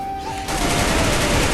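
Gunfire in a shooting video game, a sudden dense burst of rapid automatic shots that starts after a brief quiet moment and stays loud and continuous.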